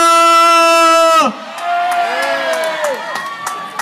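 A stadium crowd at a national anthem performance cheers and shouts, a loud, sustained roar that drops suddenly into scattered whoops and yells over a noisy hubbub.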